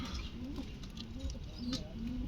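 King pigeons cooing in a loft where a pair is nesting with young, a soft, low, repeated cooing rolling on steadily over a continuous murmur of background noise.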